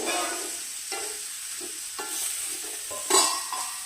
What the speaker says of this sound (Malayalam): ഉപ്പ് ഇട്ട് വെച്ച് ജാതിക്ക കേട്ടോ, അത് ചേർത്ത് കൊടുക്കും. നന്നായിട്ട് ഇളക്കി കൊടുത്തിട്ട്